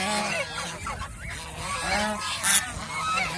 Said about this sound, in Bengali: এই যে আরেকটা ছেলে হাঁস আছে, এই যে দেখেন, এই যে ঘুরতেছে